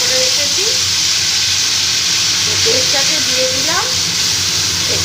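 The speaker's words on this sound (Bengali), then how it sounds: "ভেজে নেব আদা টমেটো কাঁচা গন্ধটা যাওয়া পর্যন্ত দেখো একটু ভেজে নিলাম" A paste of ginger, green and red chilli, and tomato fries in a pan for Kashmiri aloo dum, making a loud, continuous close-up sizzle while someone talks over it.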